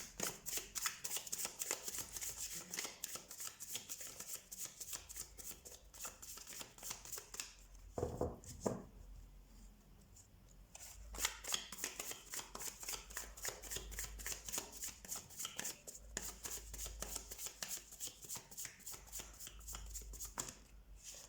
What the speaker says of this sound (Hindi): सबसे पहले हम कार्ड शफल कर लेते हैं आपके लिए ऑप्शन 3